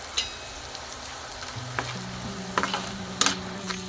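Snack ingredients frying in oil with chili powder in a pan, a soft steady sizzle broken by several scraping spoon strokes and clinks of stirring, close and fairly quiet.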